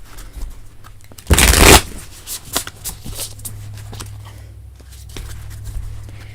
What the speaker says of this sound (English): Ooh, that was a bad shuffle.